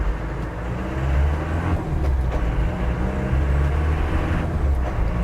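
A restored 1996 Land Rover Defender 90 drives along, its engine giving a loud, close, steady low drone that swells slightly as it pulls, heard from inside without speech.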